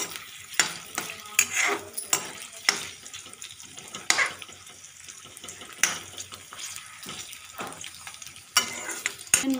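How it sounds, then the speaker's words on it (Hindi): Onions frying in hot oil in a kadai while cooking kundru sabji: a steady crackling sizzle broken by repeated scraping stir strokes and sharp clatters of the spoon against the pan, close and loud. "अब ऑयल मेरा गरम हो गया है, अब हम डालते हैं ऑनियन।"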